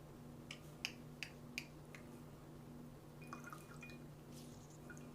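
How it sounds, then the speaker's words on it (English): Last drops of water falling from a wrung-out microfiber cleaning cloth into a glass: four small, crisp drips in quick succession, then fainter trickles, close by in a quiet room. "let me see if I can get the last drops of water actually in"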